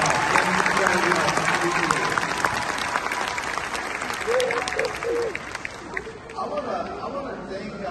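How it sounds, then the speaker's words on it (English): An audience at a keynote event applauds the mayor, a dense, sustained wash of clapping close by that gradually thins, with some voices and a cheer rising over it. "Big round of applause for Mayor."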